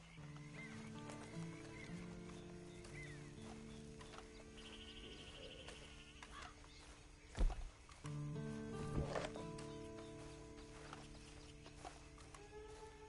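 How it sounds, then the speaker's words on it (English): Horse hooves clip-clop steadily in Red Dead Redemption 2, with a short whinny partway through, a couple of sharp thuds near the middle, and faint birds and ambient music underneath. "Then you better get on this horse."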